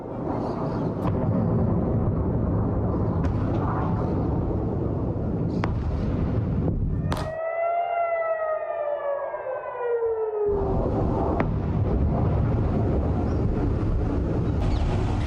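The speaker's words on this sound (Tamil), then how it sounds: "வெடிச்சத்தமும் சைரன் ஒலியும் மக்களை அச்சமடைய செய்தன" A loud, continuous roaring rumble of explosions from an Iranian missile attack on Israel fills the air in Jerusalem, broken midway by a wailing air raid siren that rises and falls over several seconds before the rumble returns.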